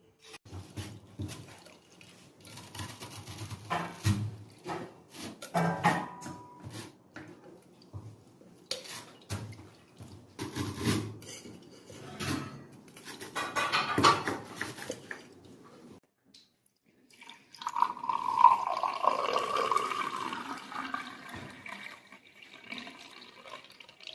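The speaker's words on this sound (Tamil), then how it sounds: "இப்போ அரைச்சாச்சு, இதை வடிகட்டிடலாம்." A freshly ground herbal mixture is strained in a kitchen, with liquid pouring and splashing, dishes and utensils clinking and scraping, and a stretch of running, trickling liquid near the end, all close and moderately quiet.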